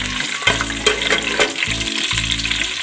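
Red and green chillies fry in a pot of hot oil for a daal pulao, a steady loud sizzle with a few sharp crackles and low hum underneath, no voices.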